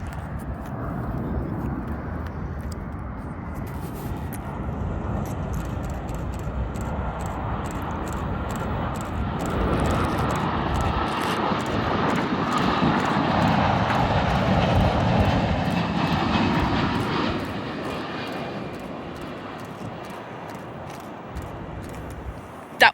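A Qantas airliner on flight QF10 lands at Perth Airport behind runway 06, its engine roar building steadily from a distance, peaking loud overhead, then easing away.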